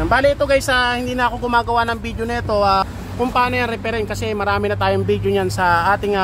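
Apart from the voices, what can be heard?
No distinct noise like a dog, phone or traffic.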